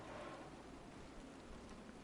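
Steady rain pouring in the DayZ video game, a dense even hiss of falling drops that fills the whole stretch without pause, fairly faint and with no voices over it.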